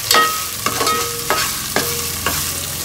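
A ladle stirs chicken curry with asafoetida in a pan, giving close, loud scraping strokes about every half second over a low sizzle, with no voices.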